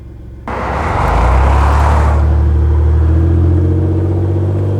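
A fifth-generation Toyota 4Runner accelerates hard, its engine rumble surging up after a quiet start and then holding as a loud, steady roar close by, with no voices.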